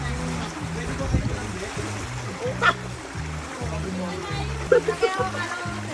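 A strong current of water gushes out of a pipe outdoors in a steady rush, with splashes and people talking over it.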